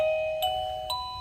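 A smart video doorbell's wireless chime rings with steady, clear electronic tones. Two brighter strikes come about half a second apart, close and moderately loud in a quiet room.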